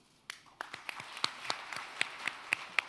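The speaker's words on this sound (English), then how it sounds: "A little bit of applause will be very fine." An audience at a formal talk gives a short burst of light applause. The scattered claps build into a steady patter over a few seconds.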